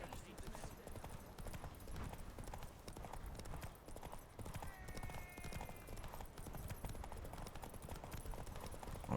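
Horse hooves clip-clopping in steady rhythm while riding in the Witcher 3: Wild Hunt video game, continuous and fairly quiet, with game sounds and a player talking over them.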